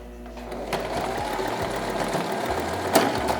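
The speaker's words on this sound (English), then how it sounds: "So I'm sewing down the garter first" A sewing machine runs steadily while stitching down a stretched garter, a close, even mechanical whir with rapid needle rhythm and a couple of sharper clicks, no talking over it.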